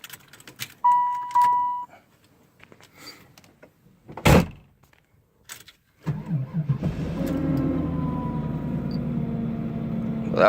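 A car engine cranks briefly, then catches and settles into a steady idle, preceded by some jangling and a door thud.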